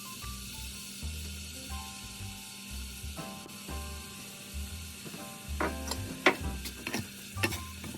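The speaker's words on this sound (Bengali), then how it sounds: "পেঁয়াজ দিয়ে দেবো।" Chopped onions sizzle in hot oil in a pan, a steady frying hiss broken by repeated scraping stirs and rattling clicks of a spatula against the pan, close by with no talk.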